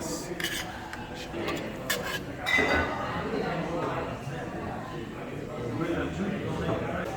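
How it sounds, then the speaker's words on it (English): Metal utensil scraping crispy bits off the bottom of a hot pan, a close rasping scrape with occasional clinks, running under near-constant conversation. "Get that crispy shit off the bottom."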